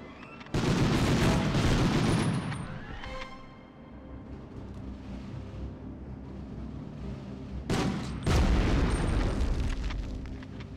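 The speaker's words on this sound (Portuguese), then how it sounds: "Granada." Heavy booms from grenades and gunfire in a video game: two loud, broad explosive bursts about six seconds apart, each followed by rumbling decay, with scattered shots in between and no talk.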